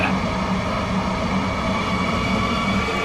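A metro train runs steadily in the game Stepford County Railway, a continuous loud rumble with a faint whining motor tone and no speech.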